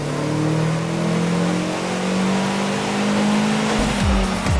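An engine-swapped Toyota Yaris with a cheap eBay turbo accelerates hard on a street, its engine droning loud and steady with a rising pitch, up close and with no talking.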